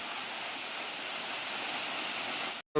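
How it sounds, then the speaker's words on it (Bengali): Water pouring down a waterfall at Daringbadi, a steady broadband rushing hiss heard close and unbroken before it cuts off abruptly near the end. "ফলসের জল এখানে পড়ছে"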